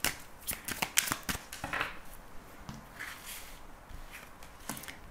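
Tarot cards shuffled by hand before a reading, giving soft riffling and slapping bursts, several quick flutters, close and fairly quiet with no speech.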